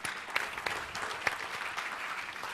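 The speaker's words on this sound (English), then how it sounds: "They are indeed deserving of the applause" An audience applauds the finalists at a fintech challenge grand finale, with brief moderate clapping from a crowd throughout.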